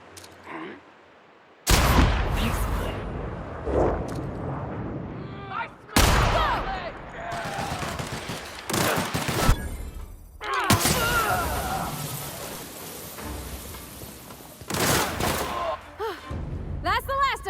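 Several loud bursts of video game gunfire and heavy booming impacts in The Outer Worlds, with rapid shots and thuds separated by brief pauses, and a voice speaking in between.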